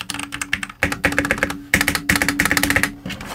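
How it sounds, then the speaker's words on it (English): Fast typing on a mechanical keyboard, dense clacky keystrokes in quick bursts with short pauses, close and loud with no speech. "Let's do this little typing test here."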